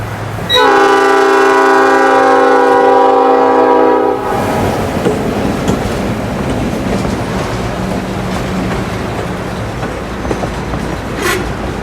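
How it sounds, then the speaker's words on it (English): A Michigan Shore Railroad train blasts a loud, sustained multi-tone horn for about four seconds, then rumbles past close by with a steady, heavy roar of wheels and cars. "we catch back up to the train at Hayes Street"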